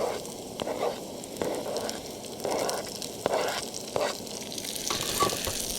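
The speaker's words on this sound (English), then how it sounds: "So we're going to add in the garlic and the shallot" Garlic and shallot frying with potatoes in a hash, a soft continuous sizzle broken by repeated scraping stirs every second or so, close and without talk.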